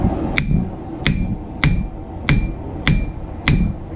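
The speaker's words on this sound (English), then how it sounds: "You can tell too when you're swinging that hammer, watch that steel." A blacksmith's hammer strikes a steel knife blade being forged, six sharp ringing blows at an even, steady rhythm, loud and close, with no talking over them.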